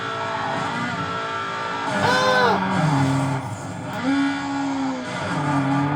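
A race car engine in Need for Speed Underground revs loudly and steadily. Its pitch rises and drops through gear shifts, with a sharp surge around the middle, over a constant, close roar of road and game noise.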